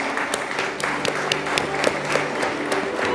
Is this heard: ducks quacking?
no